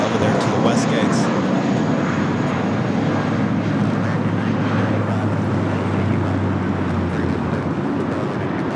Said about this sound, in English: the second Air Tahiti Nui Dreamliner coming in from Papeete. Also touching down here on the south side.